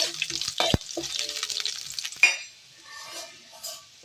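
Chana dal and garlic frying in oil in a pan, a close bubbling sizzle with metal spoon clinks and stirring scrapes, one sharp clink standing out before the frying settles to a softer hiss.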